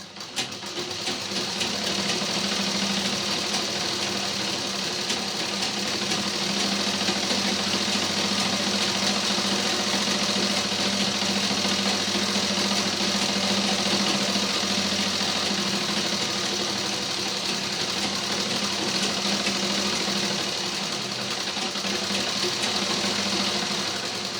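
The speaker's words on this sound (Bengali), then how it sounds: "দুই সাইডে সেলাই দিতে হবে" A sewing machine stitches a cloth market bag, a steady close mechanical whirr with a fast rhythmic clatter that runs continuously almost the whole time without talk.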